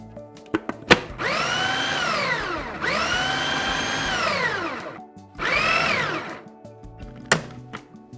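A food processor blitzes shortcrust pastry dough in three long whirring bursts, its motor pitch sagging and recovering as the dough is churned, with short clattering knocks between runs.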